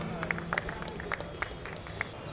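A small crowd at a Dahi Handi festival claps in scattered, sparse bursts, moderately faint against a low background hum.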